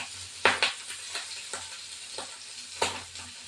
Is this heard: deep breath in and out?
no